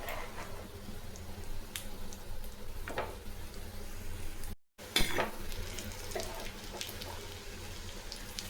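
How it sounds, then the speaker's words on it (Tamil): Tamarind roasts in sesame oil in a kadai, a faint sizzle under intermittent stirring and scraping strokes, with a brief cut partway through. "நல்லெண்ணெய் ஊற்றி நல்லா கலகலன்னு வறுத்து எடுத்துக்கலாங்க"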